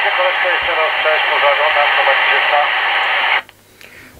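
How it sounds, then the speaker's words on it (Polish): A TTI TCB-550 CB radio transmission carries a voice through a thick band of static hiss, then cuts off abruptly to quieter background noise. "radio działa, no szum jakiś jest"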